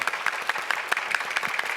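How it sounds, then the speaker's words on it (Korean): Church congregation applauding after thanks to a pastor during a sermon, a steady patter of many hands clapping at moderate distance with no speech over it. "우리 목사님 향해서 박수를 드리겠습니다"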